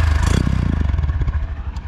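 A Honda SP125 motorcycle engine started with a single touch, a brief cranking chatter that catches into a quiet, smooth idle pulsing close by.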